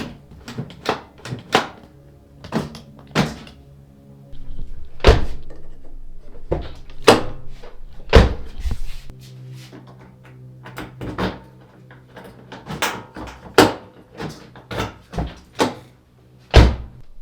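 A second-generation Toyota 4Runner's door, with newly replaced lock cylinders, is opened and shut over and over, giving a long series of sharp thunks and latch clicks at irregular intervals, close and loud, with no voices.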